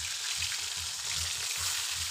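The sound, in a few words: fish frying in hot oil in wok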